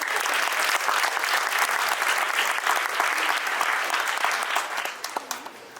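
An audience at a youth science presentation event at the Arizona Science Center breaks into sustained, loud applause, dense and even throughout before thinning out in the final second.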